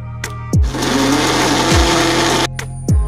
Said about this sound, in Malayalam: നമുക്ക് മിക്സിയിലിട്ട് നന്നായിട്ട് മിക്സ് ചെയ്തെടുക്കാം.